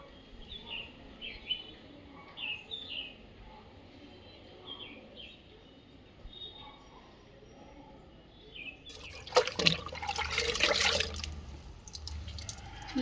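Water splashes and sprays loudly across metal window grills during household cleaning, starting after several seconds of quiet in which small birds chirp in the background.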